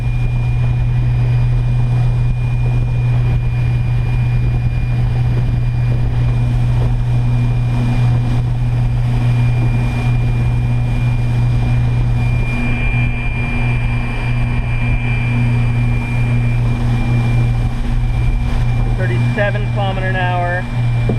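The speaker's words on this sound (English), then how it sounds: "just giving me a lot of resonation off the bottom of my hull. It's making a lot of noise." An electric boat runs at about 38 km/h, its hull resonating with a loud, steady low drone and a constant tonal hum. A voice talks over it.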